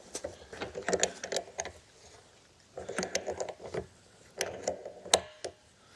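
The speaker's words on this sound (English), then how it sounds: "I can break out my channel locks and start tightening it from there." Scraping, ratcheting metal sounds of channel locks tightening a threaded pipe fitting on a DIY 45 gallon pig waterer, coming in two short bursts of uneven grinding clicks, close and moderately quiet.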